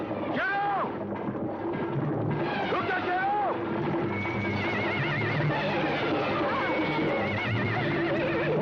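A horse neighs and whinnies repeatedly in a dramatic Bollywood film scene, loud and close over a dense score of music and effects, with voices shouting through it.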